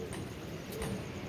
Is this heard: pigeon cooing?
yes